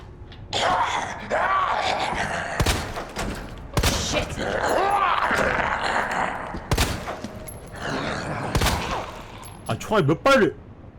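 Gunshots in Resident Evil 2, several sharp, loud single reports spaced irregularly through the scene, mixed with groans and gasps, and a voice talking in between.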